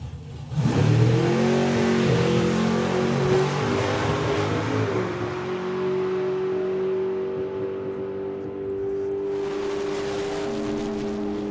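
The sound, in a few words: drag race car making its first checkout pass without nitrous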